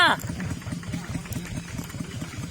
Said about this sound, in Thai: แม่ไปขับรถไถมา ฮะยางมายางมารถไถก็มาขับมา